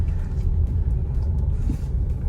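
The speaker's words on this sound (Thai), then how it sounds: "กดลง เสียงเครื่องมันก็จะบูตรอบมันก็จะขึ้นไป" An Isuzu MU-X with the 1.9 engine and automatic gearbox, throttle pressed down, gives a low, continuous engine rumble with a droning, vehicle-interior quality and no talking over it.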